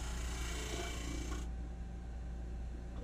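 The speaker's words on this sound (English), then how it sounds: "I want to sand it just until the chalk's gone." A wooden segment shim is sanded by hand in short, soft rasping strokes, quiet and close. The scraping stops partway through, leaving only faint room noise.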